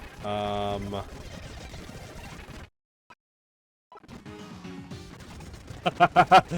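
A Water Pulse attack from the Pokemon Unbound video game: a rushing, splashing watery burst with a crashing impact, followed by a short silence and then a series of rhythmic pulsing bursts, with game music around it.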